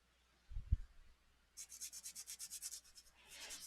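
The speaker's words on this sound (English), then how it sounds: "You could use a sanding block. You could use a sanding stick." Rhythmic rasping strokes of coarse sandpaper on a miniature model base, about a dozen even back-and-forth passes, close and moderately loud, following a brief low thump.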